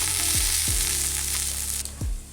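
Drained rice crackles and hisses in a hot pan of oil for egg biryani, a steady close sizzle with a few soft thuds from stirring.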